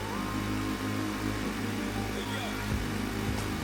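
A vehicle engine in the game Stormworks runs steadily with a low, continuous hum and a few faint revving swells, holding near and fairly constant throughout.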